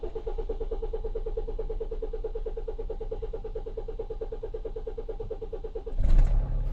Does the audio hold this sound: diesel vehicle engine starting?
yes